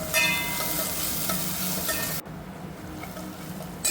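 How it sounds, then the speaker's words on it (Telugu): Onions frying in oil with rock salt in a home kitchen make a steady, loud sizzle with stirring scrapes, then drop abruptly to a quieter bubbling fry near the end, with no voices. "ఆయిల్లో అనేది ఉప్పు అనేది వేస్తే మనకి ఉల్లిపాయలు బేగా ఉడుకుతాయండి"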